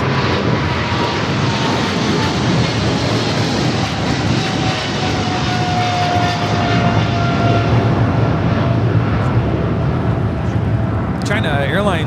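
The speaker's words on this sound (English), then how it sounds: "China Airlines Cargo 5137 taking off to Taipei on the 777 freighter." A China Airlines Cargo Boeing 777 freighter thunders down the runway on takeoff at LAX, its engines a loud, sustained roar throughout. Voices talk over the noise.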